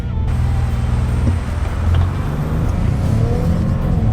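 A four-wheel-drive car launches hard off brake torque, its engine roaring loud and close in a sustained, rising drone with no talk over it.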